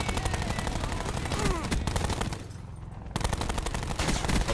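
Gunfire in the video game Black Ops 4, loud and continuous automatic bursts that fall away briefly just before the three-second mark and then return at full strength.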